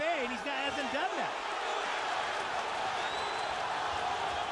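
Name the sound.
boxing crowd cheering loudly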